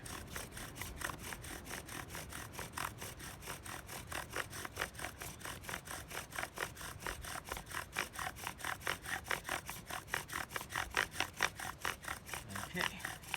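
A wooden bow drill spindle, not quite straight, is sawed back and forth as it burns into the board, giving a steady rhythmic rasping squeak with regular strokes throughout, close and continuous.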